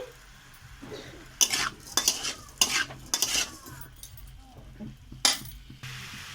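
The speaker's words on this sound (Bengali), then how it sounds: "দিয়ে আবার আমি কষিয়ে নিচ্ছি।" Spices and sugar for a cabbage curry being sautéed in a pan, a few loud scraping stirs over a soft sizzle, close by and separated by short pauses.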